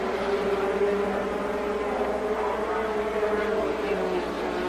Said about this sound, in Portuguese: Três motores diferentes. O motor francês, o Renault, o motor italiano, o Ferrari, o motor alemão, Porsche.